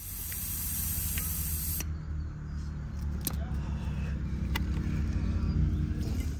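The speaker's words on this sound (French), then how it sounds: "Donc là, pour le deuxième test, je dégonfle un peu plus mon pneu." Air hisses steadily out of a car tyre as it is deflated, a continuous close spray of sound that breaks off briefly and then resumes until the end.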